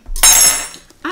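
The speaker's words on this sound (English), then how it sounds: "I always slam the knife down" A single sharp metallic clatter as a knife slams down on a hard surface, ringing briefly, followed by a faint softer knock.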